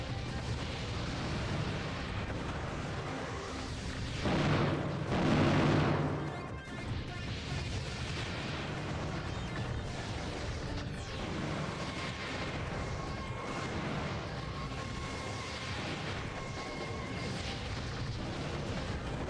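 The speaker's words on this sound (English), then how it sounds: "he's actually using his Grand Cross bombs" Grand Cross bombs explode in the Custom Robo video game, a dense run of booming blasts and crashing debris with a louder swell partway through, continuing as a rumbling barrage.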